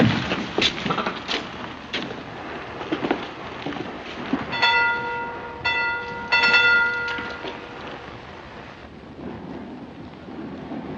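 A train at a station platform, rumbling and clattering with a run of steady whistle-like tones sounding partway through, moderately loud and continuous with no speech.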